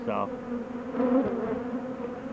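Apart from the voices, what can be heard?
honeybees buzzing in opened spring hive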